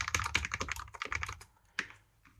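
Fast, uneven typing on a computer keyboard at a desk while setting up a C# WPF Bluetooth LE program, close and crisp keystrokes in quick bursts, then a pause and a few scattered single presses.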